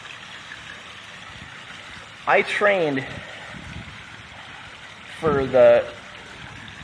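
A waterfall gives a steady, even rush of water throughout, with a person speaking over it in two short bursts.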